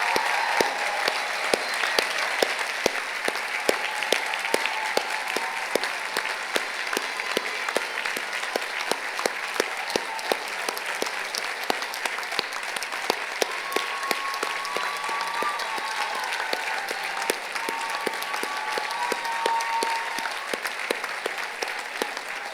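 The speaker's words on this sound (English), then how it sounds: "Let's give another warm round of applause for our wonderful UCI class" Sustained applause fills a hall for the graduating UCI School of Law class of 2019 at commencement, a dense, even patter of many hands clapping at moderate distance, continuing without pause for over twenty seconds.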